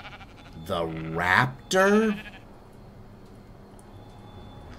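A sheep in the video game Ark: Aberration bleats in two drawn-out, wavering cries, loud and close, followed by quiet background hum; a voice speaks briefly.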